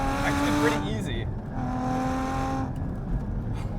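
Sharkwerks-modified Porsche Cayman GT4 engine revving while driving, a loud harmonic engine note rising and falling in two bursts, heard from inside the car.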